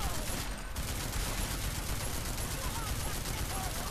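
Sustained gunfire in Deus Ex: Mankind Divided, a dense continuous rattle of rapid shots filling the clip at steady loudness, with a voice over the shooting.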